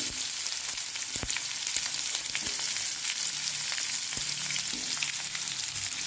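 Onion and dried red chilli sautéing in a pan for spicy chutney, a steady near sizzle with occasional sharp clicks and crackles from stirring, no talk.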